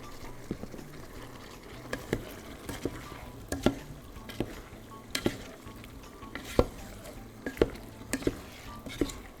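Eggplant and potato ajapsandal is stirred in a pot. Quiet, irregular spoon knocks and scrapes sound over a soft, continuous simmering sizzle, with no talking.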